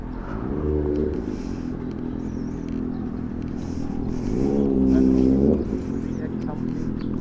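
Honda CB motorcycle nearby on a main road near the NLEX San Fernando exit, engine droning with two rising revs, one brief and one longer and louder, under rider talk and wind.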